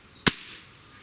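A single sharp crack from a Magnum GR or G-Jungle breakbarrel air rifle, close and loud, with a brief fading ring after the shot.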